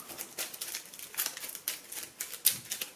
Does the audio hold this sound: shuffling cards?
yes